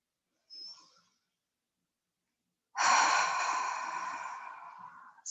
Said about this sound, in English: Continue to breathe here.